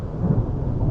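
Thunder rumbles through an afternoon thunderstorm, a deep, sustained roll that stays loud and heavy from start to finish with no voices.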